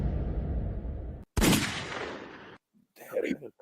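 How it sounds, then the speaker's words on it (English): Gunshot sound effect from a wrestling promo segment: a sudden loud broadband blast cuts in after a stretch of rumbling noise, decays over about a second, then is followed by a brief burst of muffled sound. "I thought the gunshot at the end of that was a nice touch."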